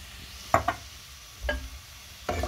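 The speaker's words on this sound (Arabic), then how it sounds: "البصل نتاعي يتقلى" Onion cooks in hot olive oil, a quiet low sizzle broken by a few sharp stirring clacks and scrapes spaced irregularly, with no talk over it.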